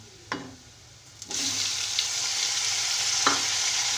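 Chopped tomatoes stirred into lightly browned onions frying for aloo methi, a loud steady sizzle that rises after a couple of spoon scrapes and carries on with occasional stirring knocks.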